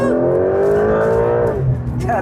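A loud Porsche 911 GTS engine revs and holds a high droning pitch, then drops off, close and forceful.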